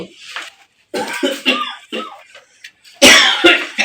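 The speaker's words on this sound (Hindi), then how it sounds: "एक तो अब्बा जी की खांसी नहीं खत्म होती।" Several harsh coughs come in bursts with short pauses between them, close and fairly loud, ending in a stronger coughing fit.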